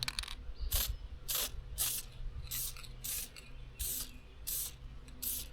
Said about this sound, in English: I'm going to put a little bit of spray paint on here